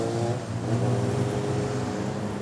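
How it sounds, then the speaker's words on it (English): A bus pulls up at a stop with a steady low engine rumble and idling drone, fairly close and continuous, with no talking. "So the bus is arriving."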